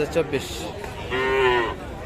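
Cross-bred and Friesian bull calves at a livestock market, one calf giving a drawn-out moo close by after a few short grunting calls, with market voices faint behind.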